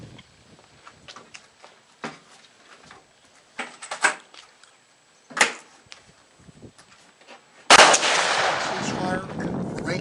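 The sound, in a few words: gunfire at a shooting range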